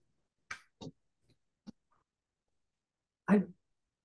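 A few short, sharp bursts spaced irregularly, then a louder, fuller cough near the end, with silence in between, during a library board meeting.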